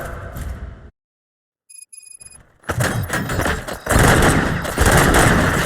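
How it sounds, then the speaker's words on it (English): Bursts of automatic gunfire from the RoboCop: Rogue City video game start after a short silence and keep going, loud and close, in dense rattling volleys with clanks between them. "Gunshots? What's going on?"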